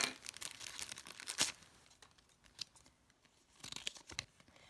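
A sheet of paper instructions that came with new camera gear is unfolded and handled up close, giving bursts of crinkling and rustling with sharp crisp snaps, pausing briefly between spells of handling.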